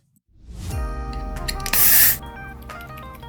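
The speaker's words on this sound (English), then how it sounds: "I started off by giving everything a coat of white Tamiya fine surface primer" A can of white Tamiya fine surface primer sprays onto Bandai model kit parts in one loud, hissing burst of about half a second, set against a steady, quieter background.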